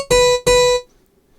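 Two quick harpsichord notes from an IK Multimedia SampleTank patch played on a D550 MIDI controller, each bright and plucked, then cut off abruptly with no sustain, leaving near silence.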